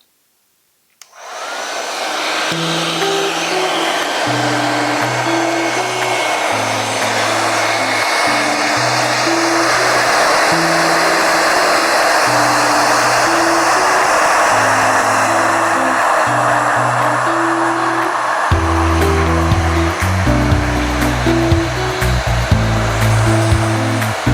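An Envy 3-n-1 Airstyler blows hot air onto a synthetic wig, a loud, close, steady motor whoosh that starts suddenly and runs for the whole stretch, with a stepped electronic tune playing underneath and no talking.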